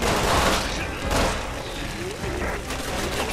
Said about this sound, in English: Get a taste of my machine gun!